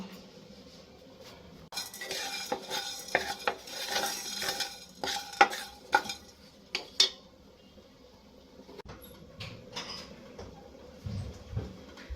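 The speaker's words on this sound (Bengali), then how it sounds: "এটা একসঙ্গে ড্রাই রোস্ট করে নেব" Cumin, whole coriander seeds, peppercorns and dried chillies dry-roast in a dry pan, stirred with a spatula that scrapes and clinks against the metal in irregular bursts, close and fairly quiet, with no talking.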